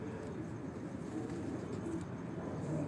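Pigeons on a rooftop loft coo softly in a steady low murmur, with a faint constant background hum running underneath and no clearly separate calls standing out.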